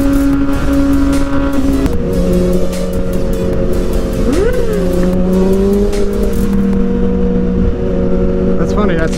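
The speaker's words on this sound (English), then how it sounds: "my bike and his bike are exactly the same RPM right now, and it's making a horrible droning sound." Two motorcycles on a commute running at matched engine speed, producing a steady, loud, buzzing drone under heavy wind rush, with the pitch wavering and sliding briefly midway.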